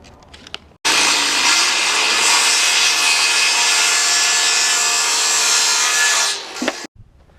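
A saw rips steadily through a wooden stair riser to trim an inch off the bottom, one continuous loud cut of about six seconds that ends abruptly, with no talking.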